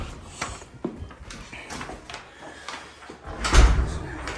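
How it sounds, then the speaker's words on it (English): A large RV garage door in a spacious new model home runs with a knocking mechanical rattle and shifting rumble, ending in a louder clunk near the end, heard close with no talk. "So there's that big RV garage door"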